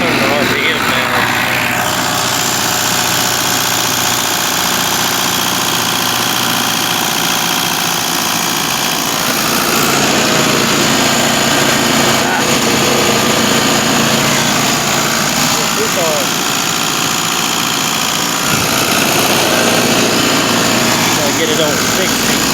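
A 40,000 watt generator engine runs loud and steady in a continuous droning idle, with its RPM being adjusted, and faint voices sound beneath the engine.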